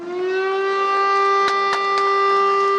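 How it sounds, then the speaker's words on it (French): A factory siren wails in a steady, sustained tone, loud and alone, with a few sharp clanks or knocks around the midpoint. "La sirène de l'usine vient saluer ce dénouement."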